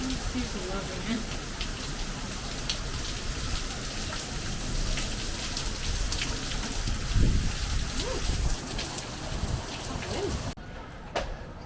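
Heavy rain falls steadily outdoors at a theme park in Animal Kingdom, a continuous loud hiss of downpour with occasional thuds and rumbles, briefly thinning near the end.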